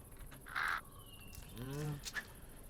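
A crow caws in the video game Minecraft Eternal, a couple of harsh, nasal calls heard fairly close over a quiet game background with faint chirps.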